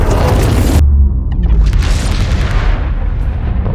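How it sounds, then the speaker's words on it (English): A massive film bomb explosion brings down a helicopter: a deep, loud boom, then a long rumbling roar with crackling debris that stays heavy to the end, with no voices. "The bomb goes off, and it's this massive explosion that brings down the chopper like a ton of bricks"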